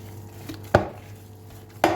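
Minced meat for homemade meatballs is beaten by hand, giving two sharp, close slaps about a second apart over a quiet kitchen background.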